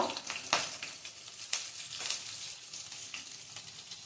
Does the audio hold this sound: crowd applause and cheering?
no